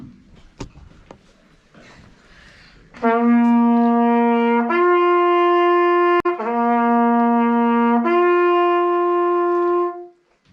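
A hunting horn sounds a signal alone from about three seconds on, sustained brassy tones alternating between two pitches in long held phrases, loud and close, ending before a short pause.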